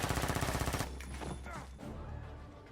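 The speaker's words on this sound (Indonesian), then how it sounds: "mendengar suara tembakan" Film gunfire erupts in a dense rapid burst of shots for nearly a second, followed by a loud noisy aftermath with scattered impacts and rumble.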